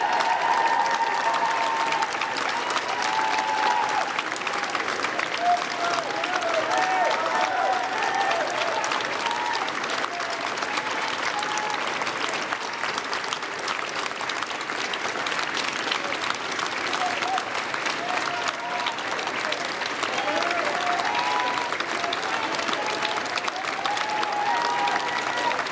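Sustained applause from a crowd inside Number 10 Downing Street as the new Prime Minister arrives with his wife, Marie-France, steady and dense for the whole stretch with faint voices mixed in.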